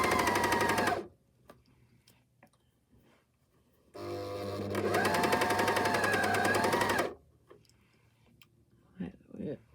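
A Juki cover hem sewing machine runs in two loud bursts, stitching binding onto an underwear leg opening, with a quiet pause between runs and light handling noises toward the end.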